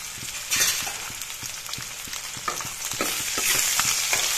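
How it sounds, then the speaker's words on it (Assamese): A ginger, garlic and green chilli paste fries loudly in a hot pan, crackling and sizzling continuously as it is stirred, with light tapping of a utensil. "এইখিনি ভাজিলোঁ এনেদৰে অলপ ফ্ৰাই কৰি"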